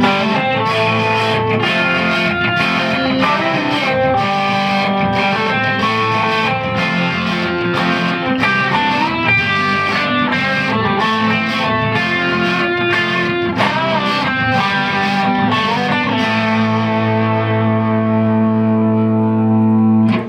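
Two guitars play together through effects with distortion and reverb, one strumming chords while the other adds a simple melody of single notes, ending on a sustained ringing chord, with no talking.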